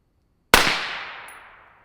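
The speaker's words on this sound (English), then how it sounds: "Let me see what it sounds like unsuppressed, or unsuppressed without ears." A single sharp, loud unsuppressed 5.56 rifle gunshot fired during a Black Anchor Tactical Nautilus suppressor test, a sudden crack followed by a long decaying echo tail across open ground.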